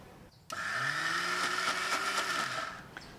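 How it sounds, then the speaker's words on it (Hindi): A kitchen mixer grinder whirs as soaked moong dal is ground in its jar, starting abruptly and running as a steady high whine with a shifting pitch for a few seconds before stopping, close and fairly loud. "अब इन्हें पानी निकालने आप मिक्सी रे जार में डालने पीस लिया"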